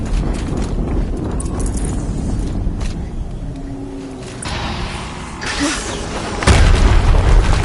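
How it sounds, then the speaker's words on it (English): A deep explosion bursts out in the video game Horizon Zero Dawn, a loud low boom arriving near the end over a rumbling, clattering game soundscape. "Explosion."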